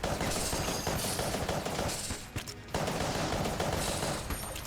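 Constant rapid gunfire in Enter the Gungeon, a dense, loud stream of overlapping shots that briefly drops away near the middle before resuming just as intense, with no talking.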